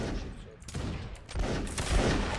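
Musket volley in the Mount & Blade: Napoleonic Wars video game, a dense crackling burst of many shots fired together at once, with voices talking in the background.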